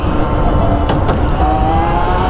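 An electric dirt bike with gears pulls hard in first gear, giving a steady loud motor whine with a faint rising tone over 2 seconds, close up, and no talking.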